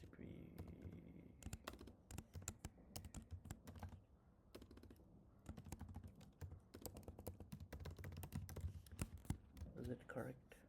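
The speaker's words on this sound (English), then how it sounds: "We got URL. Let's type a URL." Someone types a URL on a computer keyboard: rapid bursts of close, crisp key clicks with short pauses between them, and quiet speech in between.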